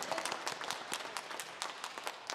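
A church congregation claps in thanks during a Sunday service, fairly faint and scattered with individual claps standing out, steady for a couple of seconds.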